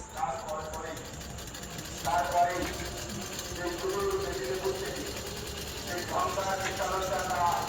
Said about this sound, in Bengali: দাদার গেঞ্জি সেলাই করে দিচ্ছে